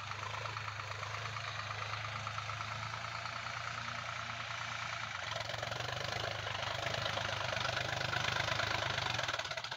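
An ACE 350 40 hp tractor engine runs steadily while pulling an MB plough, a close, continuous mid-pitched diesel throb with a faint knocking pulse that grows slightly louder toward the end.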